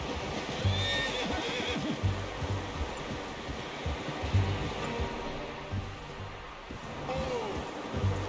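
Horse in the Red Dead Redemption 2 video game, with repeated clip-clop hoofbeats on a steady rhythm, a couple of whinnies and snorts over a soft wind-like bed, moderately close.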